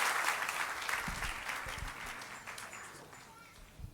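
A church congregation at a baptism service applauds the worship band, warm sustained clapping that starts full and gradually thins and fades, with a voice over it.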